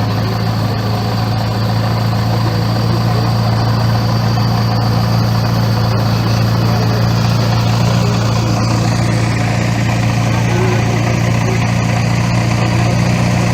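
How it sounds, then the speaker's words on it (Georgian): Both engines of a small aircraft run steadily on the ground by a runway, a loud, constant droning hum close to the microphone that holds unchanged throughout, with no voices. "ორივე ძრავა გაშვებულია"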